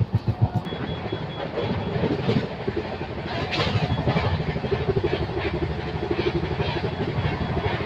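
A passenger train gathers speed just after departing Daund Junction on the Pune to Kurduwadi line, with dense rhythmic wheel clatter over a continuous rumble that grows slightly louder and fuller as it goes.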